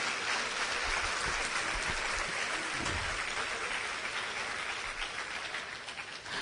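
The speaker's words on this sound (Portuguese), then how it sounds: "Jesus disse, aplauda o Senhor." A church congregation claps together in a sustained, steady wash of applause that carries on throughout and tapers a little toward the end, with no voices standing out.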